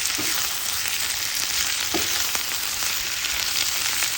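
Potatoes frying in a pan for white potato bhaji give a loud, steady sizzling hiss throughout, with a couple of faint dull knocks and no talking.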